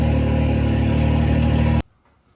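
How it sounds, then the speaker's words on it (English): A Can-Am X3 side-by-side engine idling loud and close, a steady mechanical drone that cuts off abruptly near the end. "we're gonna be able to turn the engine on for a couple of minutes just to make sure that the oil is hot"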